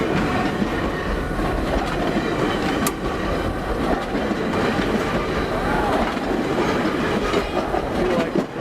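A long train rolls past on its rails beside a river, a loud, close, continuous rumble with rhythmic clickety-clack of wheels over rail joints and faint wheel squeal, sustained without letup.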